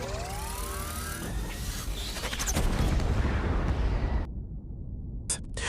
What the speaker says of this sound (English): Ichiro counterattacks, firing multiple missiles that engulf Hiro in a massive explosion, sending him crashing to Earth.